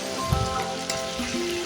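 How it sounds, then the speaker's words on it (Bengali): Meat fries in a pan, giving a steady, close sizzling hiss with faint crackles and a soft stirring knock, and no voices. "এবার মাংসটা ভাজা ভাজা মতো হয়ে গেছে"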